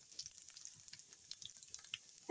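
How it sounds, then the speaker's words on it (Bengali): Cumin seeds and bay leaf fry in hot oil as a tempering, a faint, quiet crackle of scattered small pops and spits at an irregular pace. "এখন দেখো ফোড়নে দিয়ে দিলাম দুটো জিরা, আর এই জিরা আর তেজপাতা"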